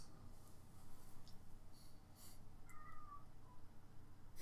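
Outside, a cat lets out a single faint, distant meow partway through, over low room noise and soft scattered clicks, with no speech.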